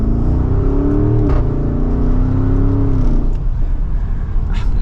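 A 2023 Porsche Cayenne Turbo accelerates hard from second gear, its engine note climbing steadily in pitch, dipping at a shift around the three-second mark, then pulling on, loud and close throughout with no talking.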